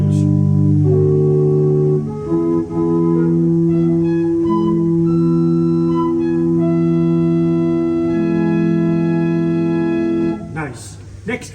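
The flute stop of an 1899 J.J. Binns pipe organ at Great Ayton plays a sustained chord that shifts through several held, mellow tones, loud and steady, then releases near the end.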